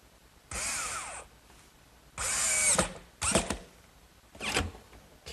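Power drill driving a few screws to fasten the base of a wooden bookcase: four short bursts of motor whine and grinding, each under a second, separated by brief quiet pauses.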